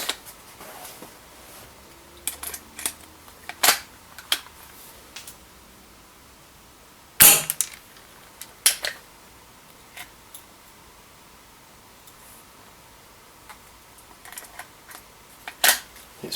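A Mad Max Contender blaster running on green gas fires round after round in sharp, irregular cracks with quiet gaps between, close and clear, with no talk.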